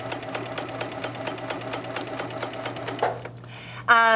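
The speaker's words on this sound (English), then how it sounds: "You will simply baste a row of stitches at 1/4 inch, which is the edge of the presser foot." A sewing machine basting a row of long stitches at a quarter-inch seam, with a fast, steady mechanical whir and rhythmic ticking that stops abruptly, followed by a brief whine.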